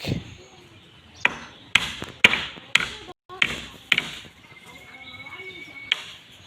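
Four-inch nails driven by hammer during house framing work, about seven sharp separate strikes at irregular intervals, fairly close, with quiet room noise between blows.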